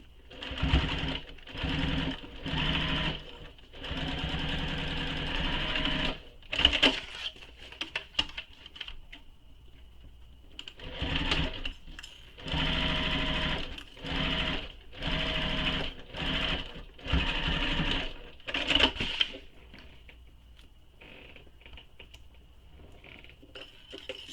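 A domestic sewing machine runs a long basting stitch along garment side seams in repeated steady bursts of rapid whirring and clatter, with short pauses between runs, close and clear.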